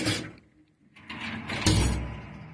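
Drawers of a portable dishwasher slide open on their runners, making short mechanical scraping and rumbling sounds separated by a brief quiet gap, close to the microphone.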